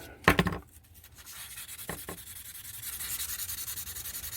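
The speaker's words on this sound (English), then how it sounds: "this is, I think, 400 grit sandpaper, but you could use any reasonably fine grit sandpaper for this" Fine 400 grit sandpaper rubbing a small HC-49 crystal container, a sharp scrape at first and then steady back-and-forth strokes growing in a quick, close rhythm, with no voices.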